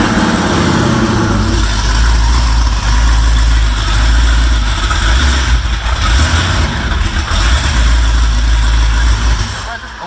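A rocket car's engine idles at minimum RPM with a steady low rumble that surges and dips unevenly, running continuously throughout with a person talking over it.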